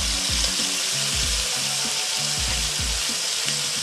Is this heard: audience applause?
no